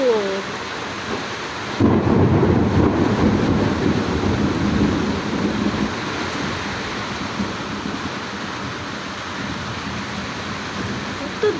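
Heavy rain pours down hard, breaking in abruptly and loudly, with a low rumble of thunder rolling beneath the downpour and easing slightly toward the end.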